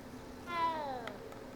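A cat in the Hogwarts Legacy video game gives a single short, clear meow, heard up close over quiet background game sound.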